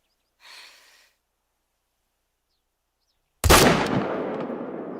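A hunting rifle fires once in theHunter: Call of the Wild, a sudden loud crack that rolls into a long, fading echo, after a brief soft breath and a stretch of silence.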